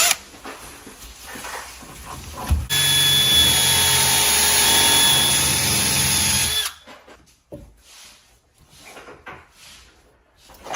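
Power drill driving a pilot bit through the preset hole of a clamp jig, a loud steady whine for about four seconds before stopping, followed by quieter handling clatter.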